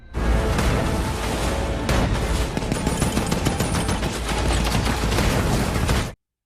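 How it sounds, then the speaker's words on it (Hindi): Sustained, loud gunfire fills a World War II naval battle scene as a surfaced German submarine comes under fire, with dense overlapping shots and booms rolling on without pause until an abrupt stop. "एक पनडुब्बी सतह पर आ जाती है, जिस पर फौरन फायरिंग शुरू कर दी जाती है।"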